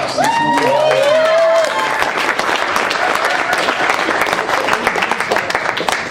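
Wedding guests clap and cheer for a bride named Amanda, dense applause building as whoops and shouted voices ring out over the first second and a half, then sustained clapping continuing steadily.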